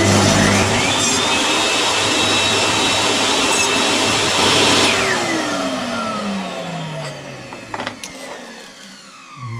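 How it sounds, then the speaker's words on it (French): A table saw with a crosscut sled cuts plywood at a 45-degree angle, making a loud, steady whining roar up close that holds for several seconds before the blade spins down. "je vais couper les deux morceaux à 45 degrés"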